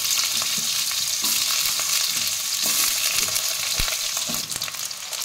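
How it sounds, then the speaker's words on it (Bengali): Chunks of potato sizzle steadily in a hot pan of oil tempered with dried chilli for a Bengali cabbage dish, with a dense, continuous frying hiss and occasional stirring clinks throughout. "আমি আলাদা করে ভেজে রাখিনি, একবারেই দিচ্ছি ফোড়নে।"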